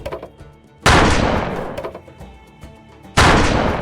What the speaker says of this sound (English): Now shoot those targets.